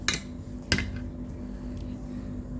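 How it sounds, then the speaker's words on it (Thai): Plastic parts of a Boeing 747 Air Force One model base snapping together, two sharp close clunks followed by faint rattling handling noises. "เสียงดังกึกนี่คือประกอบฐาน"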